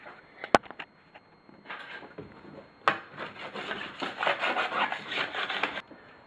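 A plastic scraper rasps excess wax off ski or snowboard edges in short, close strokes, starting with a few isolated scrapes and then settling into a steady run of repeated scraping.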